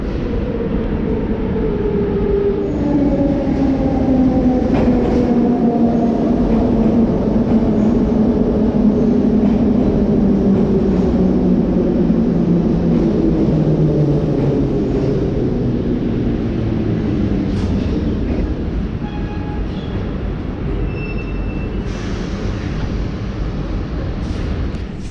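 A metro train in a Minsk Metro station decelerates with a long descending whine over a loud rumbling roar and rattling wheels, close and sustained throughout.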